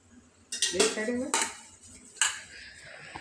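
Metal plates clatter and clink in a home kitchen while being greased with oil for Gujarati dhokla, a few close, sharp knocks and scrapes in quick succession over a quiet background.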